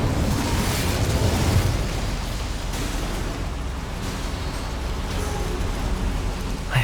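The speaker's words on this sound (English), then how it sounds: "Incendio should be able to light these flames." The Incendio fire spell in the Hogwarts Legacy video game ignites flames with a loud, steady whooshing roar of fire. The sound holds for several seconds and swells briefly at the end, with no talking.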